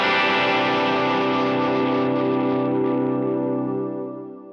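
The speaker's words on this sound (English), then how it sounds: "So I'm using a vintage delay on a dotted eighth note and a glitch reverb as my standard." A sustained electric guitar chord rings through a vintage dotted-eighth delay and a glitch reverb, loud and shimmering with layered echoes, then slowly fades away with no talking.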